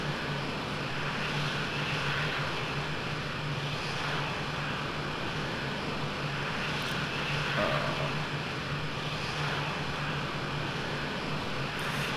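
A jet aircraft taxiing in the Falcon 4.0 flight simulator, a steady, continuous engine drone with a low hum that holds level throughout.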